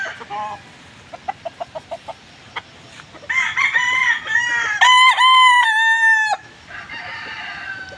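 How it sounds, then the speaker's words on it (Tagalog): Chickens cluck in short repeated bursts at a poultry seller in Silang, Cavite, then roosters crow loudly nearby, one long drawn-out call overlapping others. "para makita nyo itong mga manok dito"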